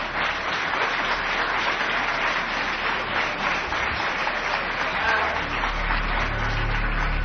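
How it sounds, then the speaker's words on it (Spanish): Crowd applauding at a live winter night radio broadcast gathering in Bélmez, a continuous, full roar of many clapping hands, loud and sustained without a break. "Escuchamos por ahí aplausos de nuevo"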